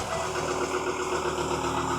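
A Ford Ranger pickup's engine idles steadily at close range, a continuous low mechanical hum with faint vibration and no voices over it.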